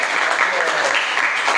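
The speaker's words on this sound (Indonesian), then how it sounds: "Oke, tepuk tangan" Schoolchildren clapping together in a classroom, a brief, dense, close burst of applause with some voices mixed in.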